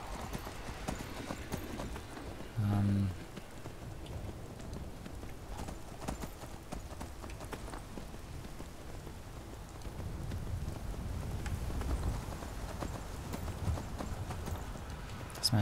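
Steady clip-clop of horse hooves at a gallop in the video game Skyrim, continuous and fairly close, with a brief louder thump early on and a rain-like wash underneath.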